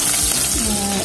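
Onions frying for a fish curry give off a loud, steady sizzle in the pan, with a faint scrape of stirring. No one talks.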